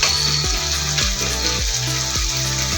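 Tomato with turmeric and spices sizzling steadily in a pan for a dry fish curry, a continuous close frying hiss with soft rhythmic knocks of stirring.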